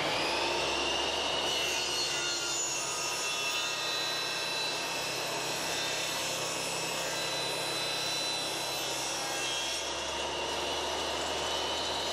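A Triton Workcentre saw taper-ripping a piece of wood gives a steady, close, loud whine and cutting roar that holds through the whole stretch without a break.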